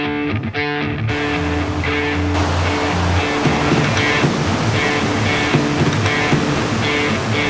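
The White Salmon River rushes through a gorge on its middle section, a steady loud roar of whitewater that fills the whole stretch without pause.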